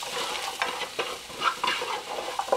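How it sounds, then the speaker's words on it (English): Vegetables with chili powder and cumin stirred in a pan, close scraping strokes over a steady sizzle with a few light clinks, brief and clear. "Let's stir these up."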